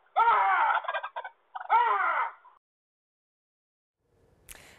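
A turkey gobbles twice in close succession, loud and near, each call a rapid rattling burst, followed by silence and a faint rustle at the end.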